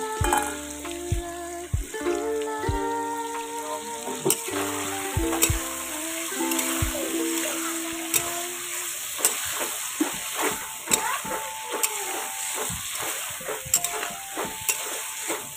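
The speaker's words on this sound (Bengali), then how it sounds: "তেলের ভিতরে আগে এভাবে সবজিটা কষিয়ে নিলে খেতে খুব ভালো টেস্ট হয়।" Vegetables seasoned with salt and turmeric fry in oil with a steady hiss, repeatedly stirred so regular scraping clicks punctuate the sizzle, while faint tonal sounds play in the background early on.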